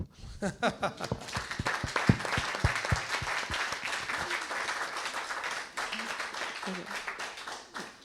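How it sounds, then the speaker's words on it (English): A Messianic congregation claps for a woman at their service: a few distinct early claps quickly build into dense, sustained applause that carries on for several seconds, with brief voices surfacing near the end. "And I think everybody should give her a good clap"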